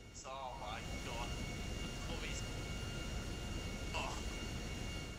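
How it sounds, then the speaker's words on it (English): An airplane flying out of control in the video game GTA 5 heading for the water, giving a steady broad engine roar throughout with excited voices talking over it. "now I'm stuck on an uncontrollable plane that's heading for the water"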